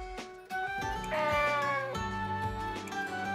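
A cat meows in the video game Nights of Azure, one drawn-out plaintive meow and a shorter follow-up, close and clear over a quiet musical background.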